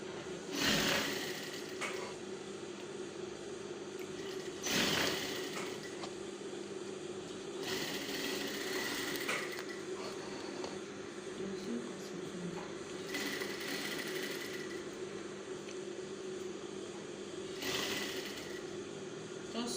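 A sewing machine stitches along a sleeve pattern in steady whirring runs, with a few short bursts of faster stitching and pauses between them, while a person talks quietly.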